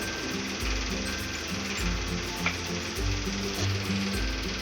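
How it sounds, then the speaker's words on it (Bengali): Dried red chillies tempering in hot oil in a wok for a prawn chop filling give off a steady, close sizzling hiss, with a faint rhythmic low hum running beneath. "আমি এবার দিয়ে দিলাম ফোড়নে শুকনো লঙ্কা"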